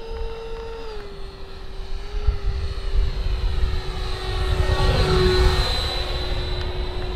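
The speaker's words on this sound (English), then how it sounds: "Holy sport jet, Batman." A Marlin 64mm EDF radio-controlled sport jet sweeps past with a steady, loud ducted-fan whine and roar over the whole stretch, its pitch sliding slightly as it passes, with no voices.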